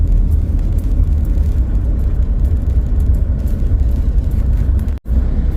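Road traffic on a dark, foggy street near a crossing: a loud, steady wash of passing vehicle noise and engine rumble throughout, broken by a brief dropout near the end.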